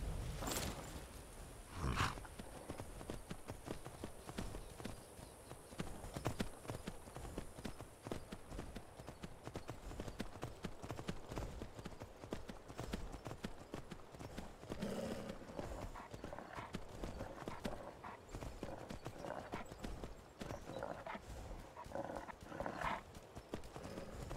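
Rhythmic clip-clop of horse hooves in the video game Skyrim runs throughout, fairly close and steady, with a brief whinny near the start.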